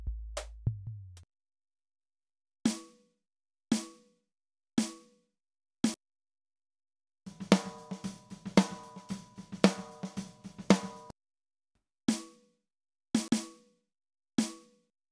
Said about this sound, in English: So that's the sound of a snare you like better.